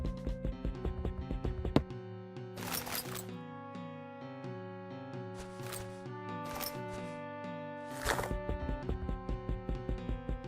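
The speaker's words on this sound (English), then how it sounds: "Chop up your crafting table and collect it" Repeated wooden chopping thuds from a crafting table being broken in Minecraft, a steady rhythmic series of close, moderately loud hits starting and stopping in bursts over constant background music.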